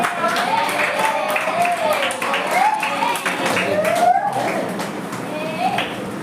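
A church gathering in Pollachi applauds a teacher: steady clapping runs throughout at moderate level, mixed under continuous speech.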